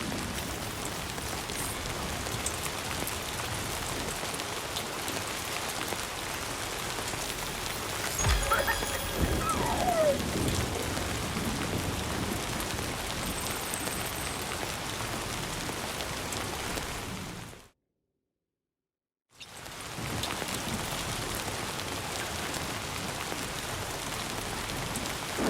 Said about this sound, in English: I don't think this rain's gonna stop.